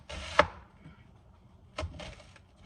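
Two quick knife cuts through food on a board, a sharp chop followed by a second after a pause, close and fairly quiet, with no talking.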